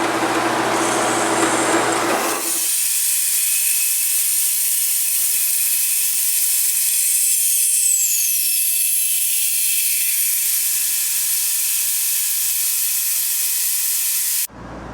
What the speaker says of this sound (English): Now we're cutting this at 15 degrees so that it will tilt back